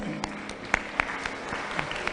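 An audience at a school English debate applauds the debaters, scattered individual claps standing out from a thin, uneven patter.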